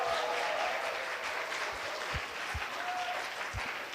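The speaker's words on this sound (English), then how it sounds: "please give a big round of applause to all of our speakers today" Audience applause closing the sessions of an international student law colloquium, a steady sustained wash of clapping from a large room, moderately distant, with no talk over it.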